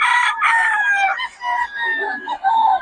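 A rooster crows loudly and close by in several long, rising-then-falling calls that fill nearly the whole moment, with brief breaks between them and no talking over it.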